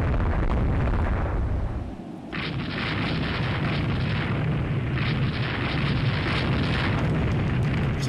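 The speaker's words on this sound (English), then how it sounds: "So the coastal battery is also going to be firing at us" Heavy coastal battery guns fire in Rule the Waves 3, a dense, loud roar of rumbling booms and blasts that briefly drops away, then resumes with bright, sustained crackle over a low rumble.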